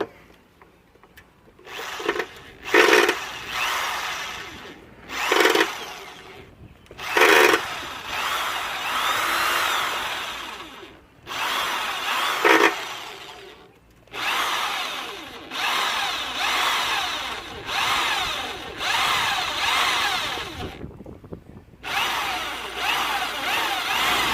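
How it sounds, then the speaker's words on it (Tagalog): A power drill bores through the thick case of a 10-branch panel board to fit ground terminal lugs, whining loudly and close in repeated long bursts separated by brief pauses, with no talking. "Ngayon, sa pagbutas guys, kailangan may diin tayo ng konti."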